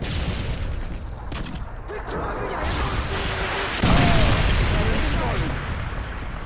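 A predator missile strike in a military shooter video game, a heavy rolling boom that swells midway over constant battlefield rumble and scattered gunfire, with game voice chatter mixed in.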